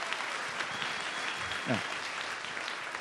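A crowd at a campaign rally in Charlotte, North Carolina applauds in a steady wash, with a voice briefly heard over it.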